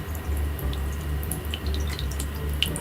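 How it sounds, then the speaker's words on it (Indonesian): A pet drinking fountain for dogs or cats trickles softly with scattered light drips and splashes over a low steady hum, quiet and close. "Dan juga ada suara gemericik airnya."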